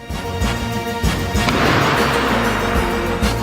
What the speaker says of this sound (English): Yes, the firecrackers.